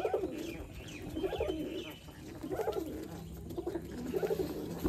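Racing pigeons coo at a pigeon farm in Bangladesh, several birds close by with overlapping, throaty coos repeating steadily throughout.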